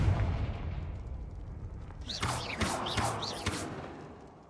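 A Confringo fire spell cast in Hogwarts Legacy bursts out as a few sharp, bright blasts in quick succession, each with a crackling tail over a low background rumble.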